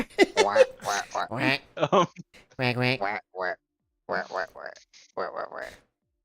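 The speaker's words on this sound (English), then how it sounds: "client has been turned into a duck" A duck quacks in a video game, loud nasal quacks coming in rapid bursts with short gaps, mixed in among voices talking.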